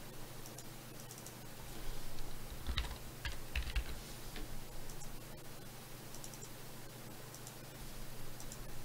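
Typing on a computer keyboard during a live trading broadcast, a steady run of close, quiet key clicks over a constant low electrical hum, with a slightly busier burst of taps partway through.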